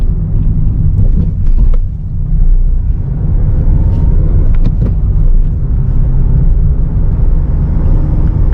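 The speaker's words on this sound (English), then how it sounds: "the engine sound is, transmission sound is somehow harder side coming to the cabin" Engine and transmission of a 2020 Honda WR-V BS6 at around 4,000 RPM, a steady loud low rumble heard from inside the cabin while driving, with a few faint ticks and road noises over it.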